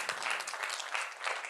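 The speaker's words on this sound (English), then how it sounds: "Could we have an applause for all those who got 13 in this?" Brief burst of audience applause at a learning and development festival event, steady dense clapping from a crowd throughout.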